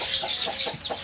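A chicken clucks close by in short, quick bursts, several soft calls in a row with no voices.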